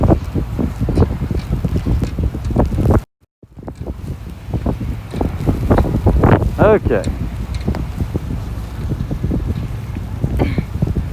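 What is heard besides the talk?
gust of wind buffeting the camera microphone outdoors in a snowstorm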